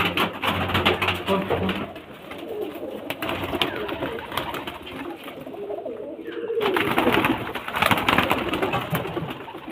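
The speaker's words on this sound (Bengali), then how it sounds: "এগুলো সব নর পায়রা।" Male pigeons coo in low, repeated throaty calls from a group held for sale, with a person talking over them.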